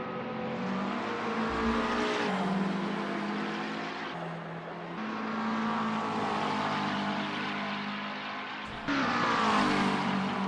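Race cars at Hockenheimring driving past with engine tones that rise and fall as they shift and accelerate, loud and continuous, ending with a sharp cut to a brighter, closer engine roar.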